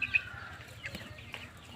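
Native chicken chicks on a small self-reliant homestead farm give soft, scattered clucks and peeps, fairly faint and close, with light background rustle.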